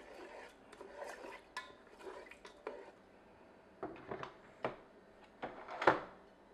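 Basmati rice with water and a teaspoon of salt being stirred in a Ninja Foodi pot, giving soft intermittent scrapes and clinks of a utensil against the pot, close and quiet, with a sharper knock near the end.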